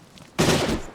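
A semi-automatic gun in the video game DayZ fires one sharp, loud shot that cuts in suddenly and trails off over about half a second.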